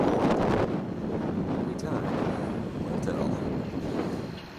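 Wind buffets the microphone outdoors in a cool southwesterly breeze during a storm chase in Kansas, giving a loud continuous rumbling roar, with someone speaking under it.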